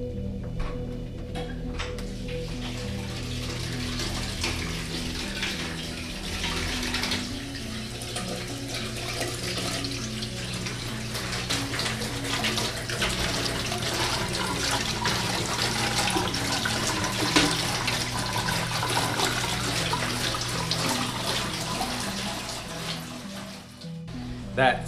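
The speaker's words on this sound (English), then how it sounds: "That sink in there is motion sensored, so as soon as you walk in, the water starts going" A motion-sensor sink faucet in a mansion bathroom runs steadily for the whole stretch, a soft even hiss of flowing water with a faint voice in the background.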